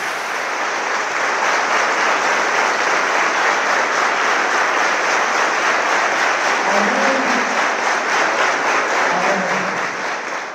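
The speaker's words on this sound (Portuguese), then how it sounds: "palmas para Jesus, porque Ele cumpriu" A church congregation in Goiânia, Brazil, claps steadily and loudly for about ten seconds. The applause is dense and sustained, and a few faint voices rise through it near the end.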